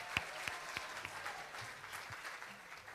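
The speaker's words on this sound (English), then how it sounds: "a huge round of applause for Rabbi Matt" Scattered clapping from a congregation at Friday night synagogue services for a rabbi, faint and thin, with a few sharper claps standing out at the start before it settles into a soft, uneven patter.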